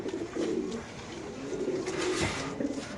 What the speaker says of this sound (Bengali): এখানে আছে এক জোড়া কবুতর মাশাআল্লাহ, নরমাদি, একটা পায়েও ট্যাগ নাই